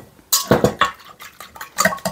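Three eggs get whisked in a bowl in a few quick clattering bursts of utensil against the bowl, near and fairly loud, with short pauses between strokes.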